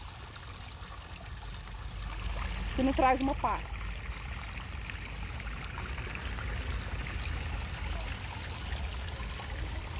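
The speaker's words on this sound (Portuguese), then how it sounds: "E o barulhinho da água." Water trickles in a park with a steady, soft babbling that continues throughout, while someone speaks briefly in Portuguese over it.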